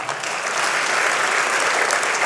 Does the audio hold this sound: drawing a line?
no